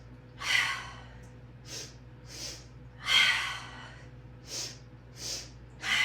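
A yoga instructor leads a deep breathing exercise in a sunrise morning flow, with audible breath pulses in a repeating pattern of two quick inhales and a longer exhale. The breaths are close and forceful and are heard without speech.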